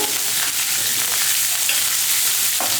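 Roasted peanuts with coriander stems sautéing in a pan for a vegetable peanut chutney, a steady close crackling sizzle with faint stirring scrapes throughout.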